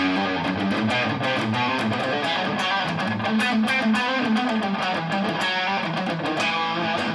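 An electric guitar plays a fast, intense palm-muted lick, with distorted, chugging notes in a continuous run, loud and close, with no talk over it.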